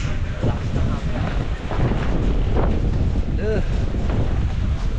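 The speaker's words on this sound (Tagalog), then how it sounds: "Lakas na hangin na." Strong wind buffets the microphone at an evening wedding reception venue, a steady loud roar with gusts throughout and a brief faint voice partway through.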